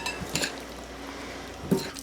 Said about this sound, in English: some fresh parsley and sour cream, and get this all mixed up